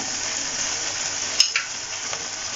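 Spices roasting in a pan for egg curry give off a steady, soft sizzle and fry throughout, with a brief sharper crackle and light stirring clinks near the middle.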